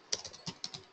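Keys tapped on a computer keyboard while entering a group name in SAP software, five or six quick, close, crisp clicks in about a second with no voices.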